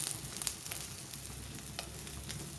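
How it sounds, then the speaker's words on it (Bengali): Cut omelette pieces for an egg curry fry in a pan while being pressed down, producing a faint, steady crackling sizzle with light scattered clicks. "কেটে নিয়ে আমি আরও ভালো করে চিপে চিপে ভেজে নিচ্ছি।"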